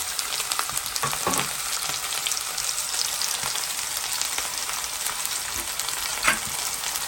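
Steady crackling sizzle of onions frying in a pan, continuous and close, with occasional louder pops and stirring scrapes.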